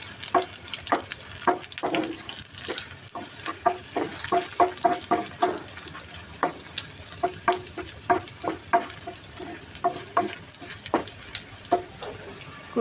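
Taro greens frying in a pan with plenty of ground cumin and garlic, with a soft steady sizzle under repeated scraping and stirring strokes, close by and moderately loud.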